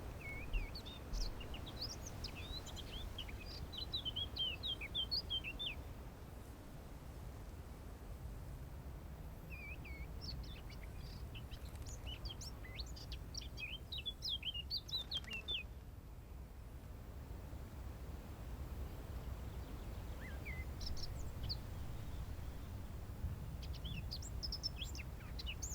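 Small birds chirp in short, scattered bursts over a constant low rumble of outdoor background noise, the calls faint and fairly distant.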